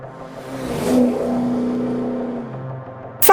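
A car racing madly through city streets at night: the engine revs up into a sustained, rising whir, then eases off, moderately near with no talking.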